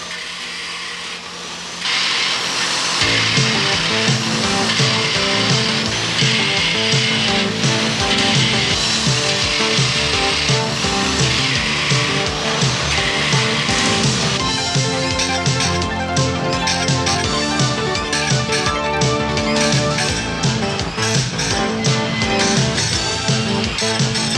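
Sawmill saw blades being sharpened in a grinding shop: a steady harsh metallic grinding and rasping that starts after a quieter opening and runs loud and continuous, with no voices.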